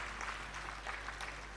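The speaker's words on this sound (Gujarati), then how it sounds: "એકવાર ખૂબ જોરદાર તાળીઓ હોવી જોઈએ" Audience at a Gujarati talk on Krishna breaks into steady, dense clapping for a brief stretch, heard from within the hall.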